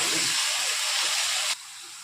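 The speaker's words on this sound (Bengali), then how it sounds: "সিদ্ধ হওয়া অবধি আলুটা ভেজে নেব।" Potatoes fry in hot oil for a Maggi dish with a loud, dense, steady hiss that suddenly drops to a quieter sizzle near the end.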